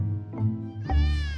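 Kittens meow close by, two short high mews in quick succession, the second longer and rising, with nothing else heard.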